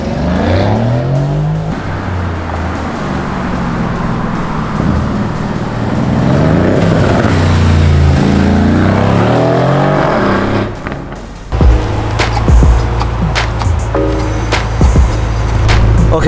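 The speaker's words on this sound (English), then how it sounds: "We just did an exhaust on it, a custom exhaust. It's not too loud, sounds good." A Lamborghini Urus engine with a custom exhaust revs and rumbles, its pitch rising and falling through accelerations, then settles into a deep, throaty idle.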